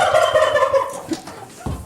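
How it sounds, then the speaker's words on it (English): Turkeys gobble in a rapid, warbling burst inside a barn, fairly loud and close, followed by a brief thump near the end. "You can hear the turkeys."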